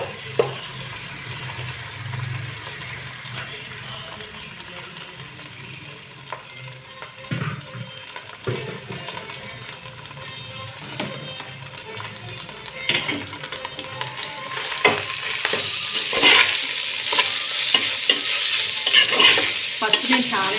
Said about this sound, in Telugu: ఇప్పుడు ఇందులో ఈ రైస్ అంతా వేసేసుకుందాం.